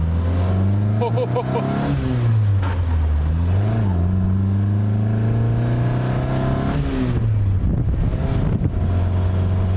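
A 1960 Triumph TR3A's engine drones loud and close while driving, its pitch rising and falling through gear changes and clutch use, with steady wind noise throughout.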